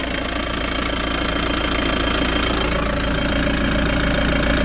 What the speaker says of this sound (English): Give it a little rev. And of course it won't idle down again.